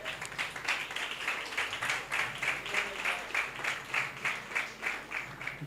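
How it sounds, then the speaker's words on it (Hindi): Audience applause for Brother Nadeem at a Christian sermon gathering, a steady, moderately loud patter of many hands clapping in loose rhythmic pulses that carries through the whole stretch without talk. "भाई नदीम के लिए तालियां बजाएं"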